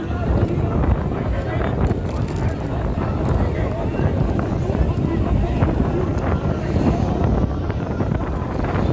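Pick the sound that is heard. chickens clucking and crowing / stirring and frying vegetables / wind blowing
wind blowing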